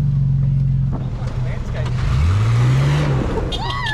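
Petrol 80 Series Land Cruiser crawling over rocks off-road, its loud, close engine rumbling and revving steadily while people talk over it.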